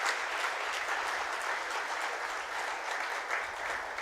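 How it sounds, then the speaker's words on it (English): Steady audience applause at an award ceremony, a dense, even wash of many hands clapping that holds at full strength for the whole stretch with no voices over it. "big round of applause for Professor Taki"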